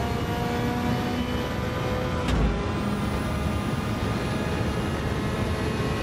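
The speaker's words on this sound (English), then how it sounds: "This turbocharger sounds awesome." Turbocharged Nissan Skyline Super Silhouette '84 race car engine in Gran Turismo 7 drones loudly at high revs with a tonal whine, broken by one sharp pop partway through.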